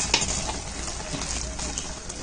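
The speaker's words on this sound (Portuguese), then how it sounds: "Vou mexer na massa da coxinha" Coxinha dough being stirred in a pan on the stove, a steady soft scraping and low sizzling texture running continuously and fairly quietly, with no talking.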